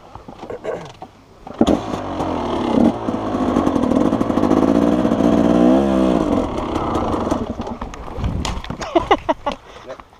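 A motorcycle engine revving while the bike climbs a hill at a racing school, rising to a sustained loud drone near the middle before dropping back, with people talking before and after.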